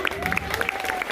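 A crowd at a Durga fair cultural program bursts into brief applause, dense clapping and cheering mixed with voices, heard for about a second.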